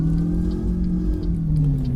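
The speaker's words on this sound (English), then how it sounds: "Detroit diesel rev right out" Detroit Diesel engine in a SCOT A2HD truck in American Truck Simulator, a loud, steady low droning rev held close up with no talking.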